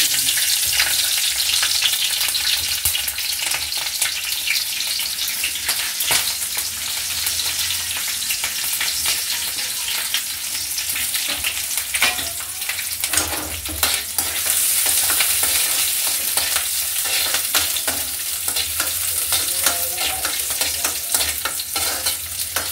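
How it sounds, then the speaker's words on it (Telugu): Green chillies fry in oil for a village-kitchen chutney, crackling and sizzling continuously with occasional scraping stirs, close and fairly quiet. "పచ్చిమిర్చి వేసుకోవాలా చట్నీకి? అందులో ఆయిల్ వేయాలా?"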